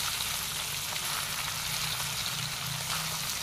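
Fish pieces coated in turmeric fry lightly in hot oil, giving a steady, close crackling sizzle that runs unbroken and fairly quiet, with no voices over it.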